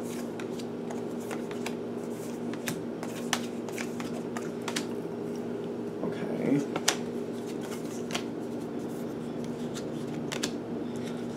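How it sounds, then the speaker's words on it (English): Tarot cards being shuffled close by, a run of soft riffling slaps and flicks repeated over several seconds against a quiet room hum, with no talk over them. "That was a bunch of cards all at once."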